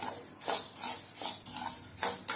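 Urad dal dry-roasting in a pan while a utensil stirs it, giving repeated scraping swishes about every half second, close and steady with no voices.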